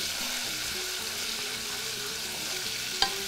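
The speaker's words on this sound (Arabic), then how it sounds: "حطيت زيت ثوم وهريسه خليتهم يتقليو" Garlic and harissa fry in oil in a pan, a steady close hiss of sizzling with one brief sharp click near the end and no talking.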